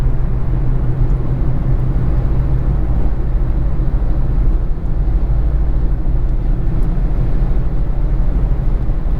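Constant low droning hum of a 1.6 HDi diesel engine heard inside a moving 2015 Citroën C3, steady and fairly loud, with rumbling road noise and no talking.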